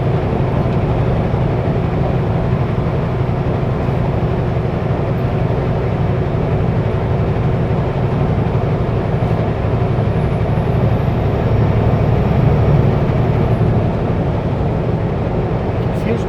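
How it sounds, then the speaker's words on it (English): Steady, loud broadband rumble of a semi truck driving along the snowy Coquihalla highway, a continuous low drone of engine and road noise from inside the cab with no breaks. "just hearing the truck noise"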